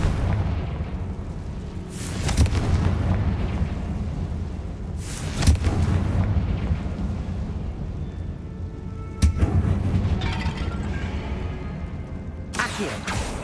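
A Confringo fire spell exploding in Hogwarts Legacy, several dull booming blasts spaced a few seconds apart over a low rumbling game ambience, moderately loud and without speech.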